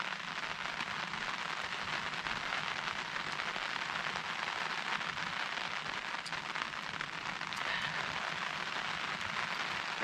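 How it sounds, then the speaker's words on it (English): Rain falls steadily around an off-grid cabin in Alaska, a dense continuous hiss of drops with scattered crackling patter on surfaces, no speech. "It's a long hot day, now it's raining."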